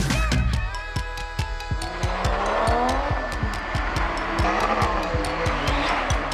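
A drift car's tires squeal loudly and continuously while its engine revs and surges, producing a sustained, wavering screech with rhythmic engine pulses throughout.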